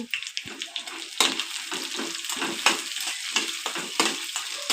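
Tomato frying in a pan for palak pulao, loud close crackling sizzle broken by repeated rhythmic scraping strokes of stirring throughout.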